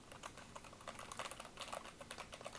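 Someone types on a quiet End Game KB65HE keyboard, producing soft, rapid, irregular key taps at low volume, heard close up with no talking.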